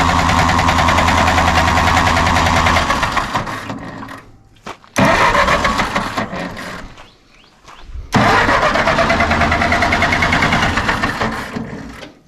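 A 1946 Massey Ferguson tractor engine cranks hard to start while it is not getting spark all the time. Three loud, close bursts of churning cranking are separated by short pauses, with no talk.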